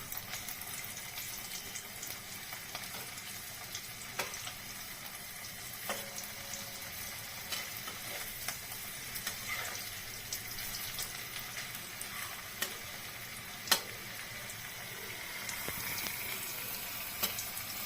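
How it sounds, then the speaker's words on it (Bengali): Soft, continuous sizzling of pumpkin frying in a pan, quiet and even, with a few faint pops and clicks. "এই যে মিষ্টি কুমড়টাও ভেজে নিচ্ছি"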